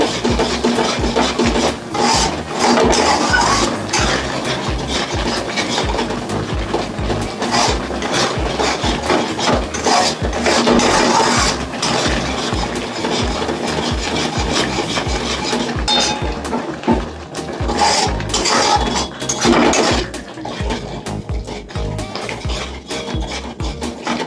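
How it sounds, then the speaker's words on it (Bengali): A utensil stirs and scrapes spice paste frying in a pan for Bengali chicken curry, giving a steady, close run of rasping scrapes and light metallic clinks throughout, with no talking. "মশলাটা খুব ভালো করে কষিয়ে নিতে হবে যতক্ষণ না তেল ছাড়বে।"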